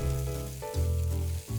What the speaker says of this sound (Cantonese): 跟住將我之前留起咗嘅蝦殼爆香